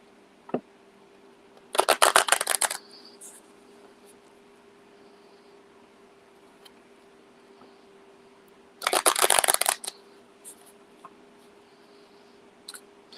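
Tarot cards being shuffled in two short, crisp riffling bursts separated by a long quiet gap, close and distinct over a faint room hum.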